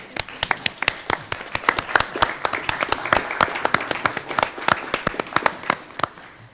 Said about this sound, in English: we're just going to clap for you first